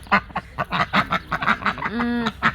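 Two ducks quack in a quick series of rapid, nasal calls close by, with one drawn-out honking call near the end; no talk.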